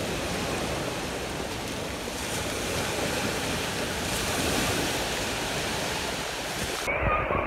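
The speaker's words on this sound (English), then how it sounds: "Nice waves crashing in." Ocean waves crash on the shore near a pier and boardwalk at sunset, a loud, continuous wash of surf with wind noise that stays steady throughout.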